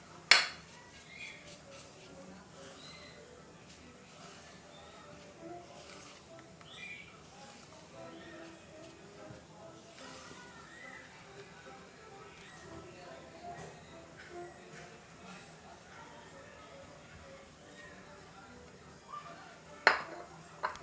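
Chocolate pound cake batter being stirred in a bowl as dry ingredients are added bit by bit, with soft scraping and occasional clinks of utensil against the bowl; a sharp knock sounds near the start and again near the end.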